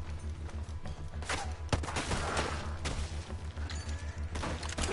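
Gunshots in Red Dead Redemption 2, several loud sharp cracks and booms over a steady low mechanical hum, close and punchy, with no talk over them.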